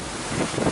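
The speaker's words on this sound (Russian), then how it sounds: "у нас ветер очень сильный" Strong wind buffets the microphone outdoors at a dig site, a steady broadband roar that swells louder in the second half with no one talking.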